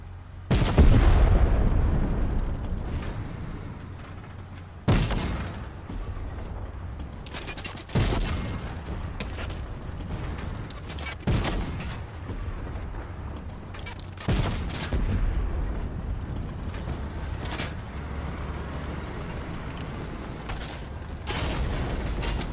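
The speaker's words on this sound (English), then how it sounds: "Stop shooting at me." Gunfire in a Fortnite match: sharp bursts of shots strike every few seconds, each fading into a low rumble, at moderate loudness with no talk.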